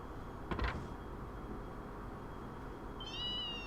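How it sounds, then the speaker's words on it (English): Cat meows from the video game Trails in the Sky the 3rd: a short bright mew near the start and a longer, wavering meow near the end, over a low steady game ambience. "You're kidding me, a cat?"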